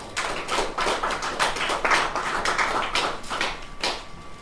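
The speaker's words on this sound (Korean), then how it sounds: "뜨거운 박수로 환영해 주시기 바랍니다." Audience applause welcoming a lecturer at a health talk: steady, dense clapping from a crowd, moderately loud and continuous for the full stretch with no voices over it.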